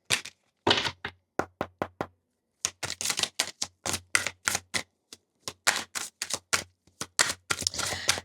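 Oracle cards pulled and shuffled from a deck, a rapid series of sharp, close snapping and tapping clicks in uneven bursts with brief pauses between, no voices.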